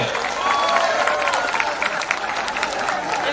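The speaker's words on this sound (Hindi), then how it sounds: "सभी ने तालियों की गूंज की बरसात होनी चाहिए इस देगलूर में" Crowd applauding at an outdoor public speech rally in Degloor, a dense continuous wash of clapping and cheering with no pauses, fairly loud and steady throughout.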